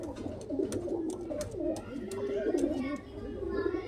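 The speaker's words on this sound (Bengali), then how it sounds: "খুব সুন্দর কোয়ালিটির পায়রা এগুলা কিন্তু মুর্শিদাবাদী গিরিবাজ লাইনের পায়রা" Murshidabadi Giribaz pigeons coo in soft, rolling repeated phrases close by, with sharp clicks and faint background voices of people and children mixed in.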